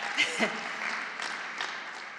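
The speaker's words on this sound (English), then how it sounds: "Yeah, do clap" Congress delegates clap after a speech congratulating a union branch, a brief moderately loud patter of applause that stays steady, then thins slightly.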